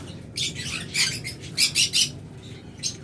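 Lutino red-eyed lovebirds chirping nearby in a bird shop, several quick bright bursts of calls in an uneven rhythm over low background hum.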